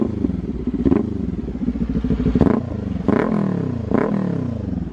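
A warmed-up Kawasaki Ninja 400 idling with a steady rumble, then blipped in several sharp throttle revs that rise and fall quickly, loud and close by.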